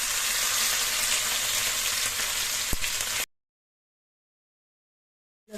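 Crushed garlic and green chili sizzling in hot oil with cumin, a loud, steady frying hiss close up that cuts off abruptly partway through.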